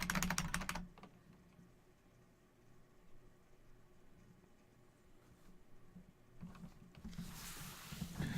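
Computer keyboard keys clack rapidly and repeatedly in two dense bursts, at the start and again near the end, with a quieter stretch of low background noise between them.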